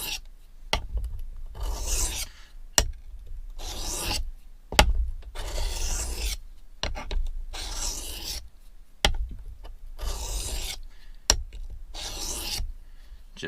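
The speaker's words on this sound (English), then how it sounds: "Same process, find your edge, and this is a whetstone here." A knife being sharpened on the finer side of a whetstone: rhythmic, raspy grinding strokes of about a second each, repeated roughly ten times with short pauses and soft taps between them, close and clear, with no talking.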